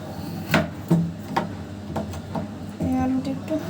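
Potatoes are cut into pieces for beef curry, with several sharp knife chops striking a board at an uneven pace, close and moderately loud, alongside kitchen clatter.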